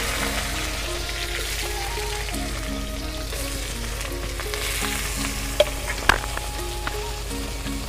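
Taro stolons fry in hot oil with bay leaf and cumin, giving a steady close sizzle throughout, with a few sharp clinks of a utensil against the pan near the end.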